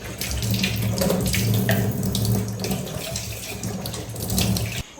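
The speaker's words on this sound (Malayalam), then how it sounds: "ക്ലെൻസർ ഇട്ട് കഴുകിയതിന് ശേഷം ഒരു അഞ്ച് മിനിറ്റ് നമ്മൾ സാധാ വെള്ളത്തിൽ വാഷ് ചെയ്യാം" Water runs steadily from a tap into a sink, splashing and shifting as baby items are rinsed under the stream.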